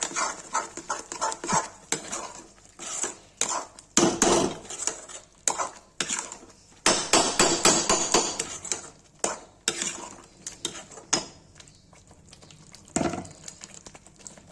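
Onion, turmeric, red chili and ground tomato being stirred in a pan for butter chicken gravy, with repeated close scraping and clattering of a spoon against the metal pan in uneven bursts and a faint sizzle underneath.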